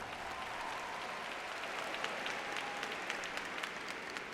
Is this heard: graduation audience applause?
yes